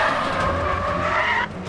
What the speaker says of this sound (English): This is just the skids.